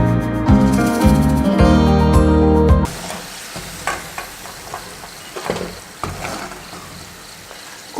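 Potato French fries sizzle and bubble in hot oil after a harmonic tone in the first three seconds, with irregular crackling bursts and scraping stirs close by.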